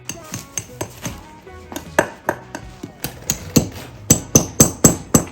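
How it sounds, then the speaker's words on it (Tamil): Large nails driven into the ground to secure artificial turf in a yard, struck by a hammer in a steady series of sharp metallic blows, close and loud, growing quicker toward the end. "இந்த ஆணி அடிச்சு தான் இந்த ஆர்டிஃபிஷியல் டர்ஃபை வந்து கிரவுண்டோட ஒன்றா ஃபிக்ஸ் பண்ணிடுறாங்க"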